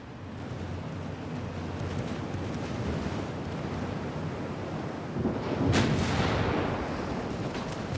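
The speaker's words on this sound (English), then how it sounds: "I heard something launch torpedoes." Naval battle in Ultimate Admiral: Dreadnoughts, with a dense rumbling wash of distant gunfire and sea noise, then a sharper, louder boom and roar near the middle that fades back into the rumble.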